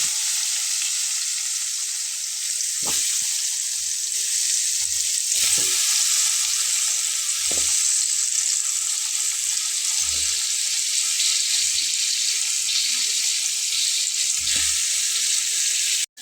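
Potatoes frying in oil with turmeric over lowered heat, a loud, steady, close sizzle with a few dull knocks as pieces are added or stirred, and no speech.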